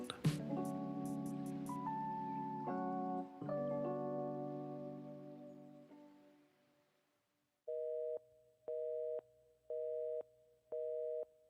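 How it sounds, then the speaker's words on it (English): Telephone sounds within a song: tonal musical notes give way after a pause to a repeating busy-signal tone, four even beeps with gaps between them, clear and moderately quiet. "All the weird phone sounds in the song"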